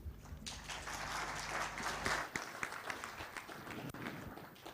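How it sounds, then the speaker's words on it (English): Applause from an audience at an MTN Uganda corporate event, a steady wash of clapping that holds for several seconds, loud and continuous, with a low hum underneath at the start. "Another round of applause, ladies and gentlemen,"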